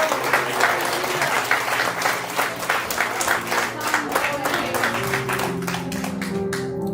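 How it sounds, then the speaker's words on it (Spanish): Church congregation applauding at a Spanish-language service, a dense burst of clapping that carries on steadily for several seconds, with voices mixed in under it. "Den un aplauso al Señor."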